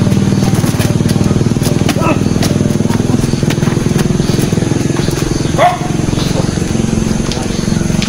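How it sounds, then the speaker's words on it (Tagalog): A motorcycle engine idles with a steady, rumbling throb close by while people talk over it. "Motor na hiniram ko."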